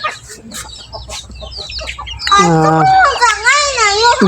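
Chickens and chicks cluck and peep while being put into a crate in the evening, with scattered short clucks at first, then loud overlapping chick cheeping close by.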